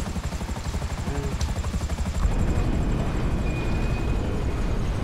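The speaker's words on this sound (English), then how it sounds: "Can we land the helicopter?" A helicopter in GTA 5 Online comes in to land, its rotor thumping in a rapid steady beat that shifts into a denser, louder roar partway through; no one speaks over it.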